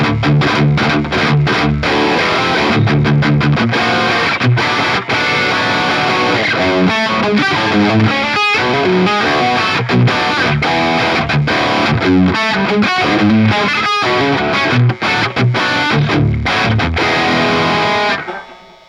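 An electric guitar plays a gritty riff through a Bogner Ecstasy amp (Pandora mod) on channel 3 with the boost engaged, heavily distorted, loud and continuous with short rhythmic breaks, alone without talk.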